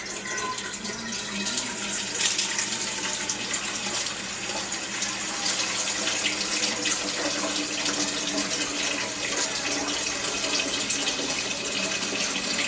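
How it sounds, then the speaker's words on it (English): Tap water pouring steadily into a large pot being filled about half full, a continuous close hiss and splash lasting throughout with no talk over it. "I'm going to fill the pot about half full with water"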